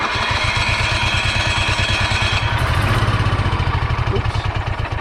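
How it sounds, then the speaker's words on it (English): Onan Microquiet generator running steadily, a rapid rhythmic engine thump with clattery mechanical noise, loud and close, its tone shifting slightly midway. "fire that up and you can hear it running"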